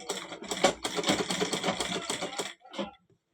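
A sewing machine stitches a lock stitch on saree fabric, giving a close, rapid, rhythmic clatter of needle strokes that runs for a few seconds, stops, then gives one short final burst.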